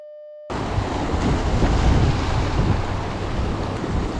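Strong sea waves crash and surge steadily at a rocky rockfish fishing spot on the coast at Gadeok, a loud continuous roar with wind buffeting the microphone after a brief silent start.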